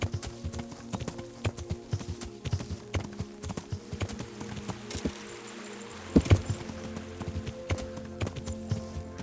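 Steady clip-clop of a horse's hooves as it is ridden across open fields in Kingdom Come: Deliverance, an even rhythmic trot with a few louder thumps and a brief snort, no talking.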